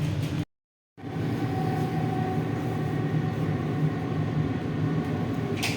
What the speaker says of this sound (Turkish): Şimdi tren yakalıyoruz. Bakın geliyor geldi.